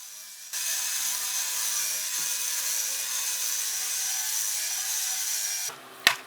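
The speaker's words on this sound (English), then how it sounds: "I'm going to use this restoration tool with a drum sander attachment on it." A rotary restoration tool fitted with a drum sander grinds against a rustic wooden barn beam, a loud, steady, close high-pitched whine lasting several seconds before it stops, followed by a short knock.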